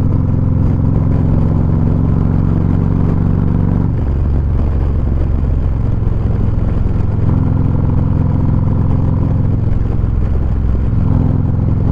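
A Harley-Davidson motorcycle engine revs loud and close in steady sustained bursts, rising at about four seconds and again near seven and eleven, with a clattering mechanical rumble throughout.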